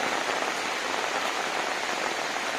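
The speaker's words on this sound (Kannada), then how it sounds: "2026ನೇ ವರ್ಷದ ಜುಲೈ ತಿಂಗಳ ಮಳೆ ಹೆಂಗಿದ್ದೊಳಿ ನೋಡು" Heavy July monsoon rain in coastal Karnataka pours down in a dense, constant hiss, steady and close with no other sounds.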